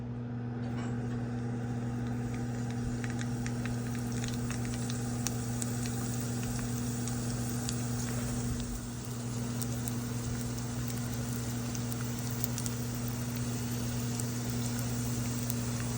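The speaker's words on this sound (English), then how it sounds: "I'm going to put them in some oil, fry them up, and they are going to be so yummy" Halibut wontons fry in oil with a continuous, even crackling sizzle for the whole stretch. A steady low hum runs underneath.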